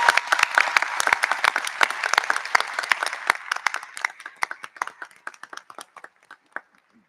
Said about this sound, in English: So I'd like to give a round of applause to all the parents and guardians who helped their students.